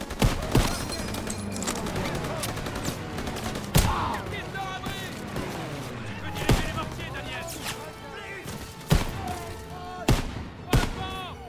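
Rapid gunfire and sharp shot bursts from a World War II shooter video game, loud and near, with scattered heavy bangs over a dense battle mix while voices shout orders in French.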